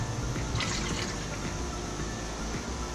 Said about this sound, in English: I'm just going to fill this thing up with both the bottles of brake fluid that I have